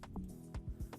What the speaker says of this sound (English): and then we also have this clap roll